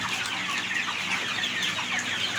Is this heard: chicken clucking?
yes